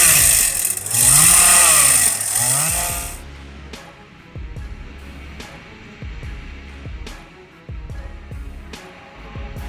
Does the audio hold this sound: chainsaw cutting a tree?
yes